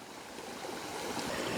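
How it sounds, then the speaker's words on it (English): A tiny waterfall on a hiking trail, where a stream branch spills over rocks, gives a steady, close rushing and splashing wash of water that fills the short stretch without a break. "This branch here comes out, goes over this little tiny waterfall"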